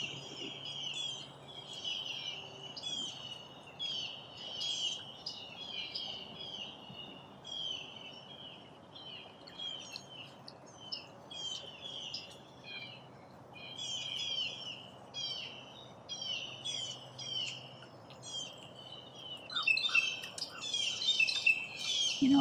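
Birds chirp and tweet outdoors in a steady run of short, bright calls at moderate distance, with a busier burst of overlapping chirps near the end over faint background hum.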